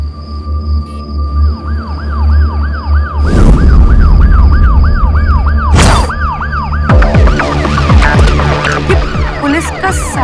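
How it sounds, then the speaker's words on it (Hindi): A loud police siren wails in rapid repeating up-and-down sweeps, heavy rumbling and bursts of noise building over it, ending in a dense clash of overlapping siren tones. "पुलिस का सायरन।"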